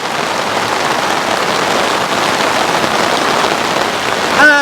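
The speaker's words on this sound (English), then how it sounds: "it is just absolutely pouring down" Heavy storm rain pours down hard and constantly beside an overgrown Cotswold fishing pit, a loud, dense hiss of drops hitting surfaces close by.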